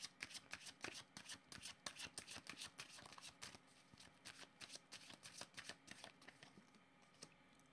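A deck of cards is shuffled over and over for a card reading, giving soft, close riffling flutters and light slaps in a continuous quiet rustle, with no talking.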